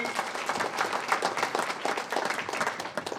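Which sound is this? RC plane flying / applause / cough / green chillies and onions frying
applause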